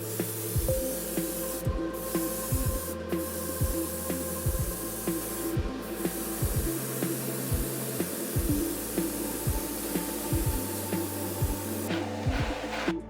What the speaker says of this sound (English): And it was onto the airbrush.